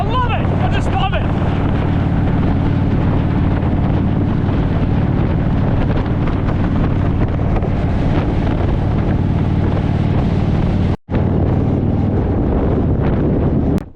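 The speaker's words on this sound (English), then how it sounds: "It's windy." Strong wind roars and buffets the microphone near the entrance to Lucky Bay in Western Australia, a dense, continuous rush that briefly drops out once and then resumes, with a voice faintly beneath it.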